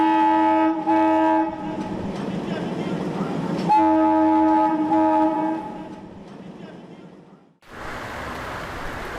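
A train passes with loud, sustained horn blasts over rumbling wheels and rail clatter, then the sound cuts abruptly to a duller, noisy background.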